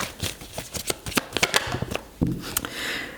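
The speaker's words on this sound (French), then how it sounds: "On va continuer à tirer nos cartes." Tarot cards being shuffled and drawn, giving a rapid run of crisp riffling flicks and slaps close up, with a heavier card thump partway through and a soft rustle at the end.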